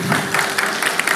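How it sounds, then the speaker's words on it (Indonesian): Church congregation applauding, a short, loud burst of dense clapping from a crowd, even and sustained with a faint voice underneath. "Berikan tepuk tangan untuk Tuhan Yesus"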